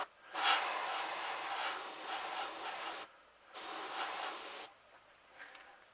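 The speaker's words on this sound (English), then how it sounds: "just spray a little bit on the gill" Airbrush spraying paint onto the gill of a golden perch crankbait fishing lure: two close, steady hissing bursts of about three seconds and one second, separated by silence, with a fainter hiss afterward.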